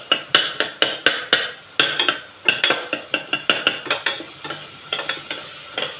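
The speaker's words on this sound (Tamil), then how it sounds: "தனியாத்தூள் போட்டுக்கிட்டேன்னா இதை நல்லா மிக்ஸ் பண்ணி விட்டுக்கிடுவோம்" A spoon stirs a thick tomato masala with coriander powder in a pan, producing a quick series of sharp scraping clinks against the metal, rhythmic and close, with a faint sizzle underneath.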